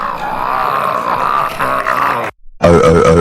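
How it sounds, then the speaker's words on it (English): A cartoon schoolboy lets out a long, loud, deep burp in a classroom in front of the principal, breaking briefly and then rumbling on again. "How dare you burp at me now?"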